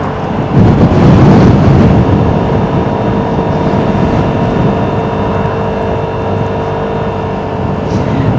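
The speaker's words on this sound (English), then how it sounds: "All those leaves getting blown by the wind." Strong wind blows across a Vespa scooter rider in a state forest, a broad buffeting roar that swells early then holds steady and loud throughout.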